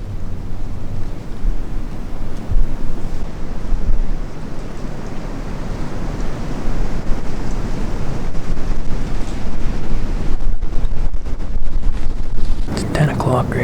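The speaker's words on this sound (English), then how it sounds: "The wind swirling really bad everywhere" Strong, steady wind buffets the microphone on a Pennsylvania mountain ridge, a continuous low roar that gusts and swirls throughout with brief rustling near the end.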